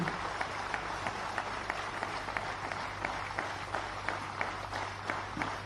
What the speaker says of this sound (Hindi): आप सभी लोग अपनी अपनी जगहों पर खड़े हो जाएं और जोरदार तालियों से अभिनंदित करें